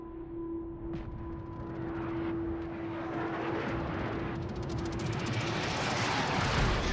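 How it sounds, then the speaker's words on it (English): Aircraft engines of attacking planes in the naval battle game World of Warships, a steady broad droning roar that swells and grows louder over several seconds. A sustained tone runs underneath, and no one speaks. "Silverdock's Gearing now being hounded by planes and pursued by spiders."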